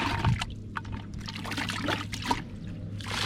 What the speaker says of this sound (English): Let me just put the crabs in the lake first.